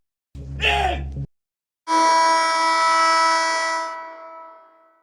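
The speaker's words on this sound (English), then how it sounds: "that's the final buzzer" After a short breathy sound, a loud sustained buzzer blares for about two seconds and fades out.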